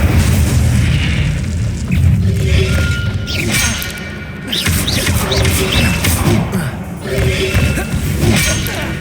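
Repeated Incendio fire spells blasting in Hogwarts Legacy gameplay, loud booming bursts and crackling impacts over dense game noise and music, with a voice calling out between casts.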